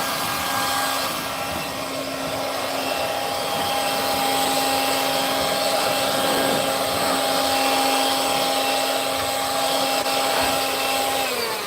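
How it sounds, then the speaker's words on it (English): A small blower runs continuously at close range with a steady whooshing roar and a high, constant whine, at a marine construction site where a metal cargo container roof is being repaired; no speech is heard. "I have this little blower and I don't have to spend 6 or 7 hours a day with a freaking broom"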